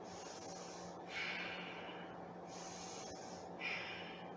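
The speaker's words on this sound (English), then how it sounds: "whereas the warrior's breath, there's a sound to it. As you're breathing in," Audible warrior's breath from qigong breathing practice, two hissing breaths drawn in through the nose and throat a couple of seconds apart, close but faint over steady background noise.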